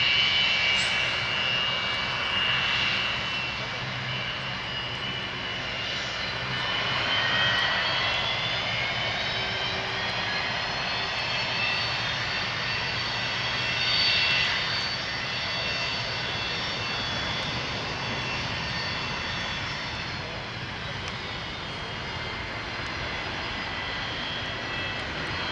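A Cargojet Boeing 727-200F takes off from runway 23 at Toronto Pearson with a loud, sustained jet engine roar. The whining tones swell and ease gradually, with no talking over it.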